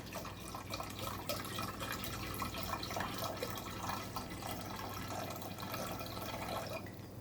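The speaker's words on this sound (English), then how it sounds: "So you're gonna fill your pot up halfway." Water runs steadily into a container, a quiet continuous splashing and trickling with no voices.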